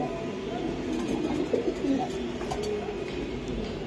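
Bombai pigeons at a pigeon market give soft, low cooing calls that swell and fade over about four seconds, steady and close with some faint background murmur.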